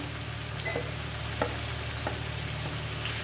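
Onion, tomato and ginger-garlic paste fry in a pan as a steady close sizzle, with a few soft clicks of stirring and no voices.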